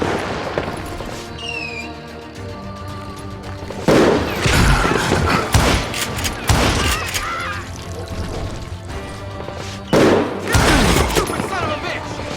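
Rapid gunfire from a Western shootout in the video game Call of Juarez: Gunslinger, with loud bursts of shots and booms layered over a music score and background effects.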